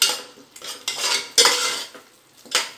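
Ground coriander and mint paste being sautéed for pulao, with loud, close spatula scrapes and stirring strokes in uneven bursts over a light frying sizzle.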